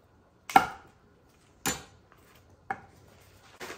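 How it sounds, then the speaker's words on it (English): Knife chopping through a frozen block of butter on a cutting board: four sharp, separate chops spaced about a second apart, close and fairly loud, with near silence between strikes. "This is frozen, so I just want to get it chopped up and on its way to melting anyway"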